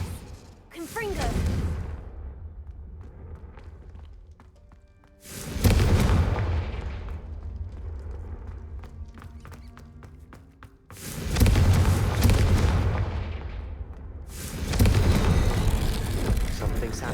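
Three heavy blasting-spell explosions in the Hogwarts Legacy video game, each a loud booming burst that decays into rumble, spaced several seconds apart, with some talk between them.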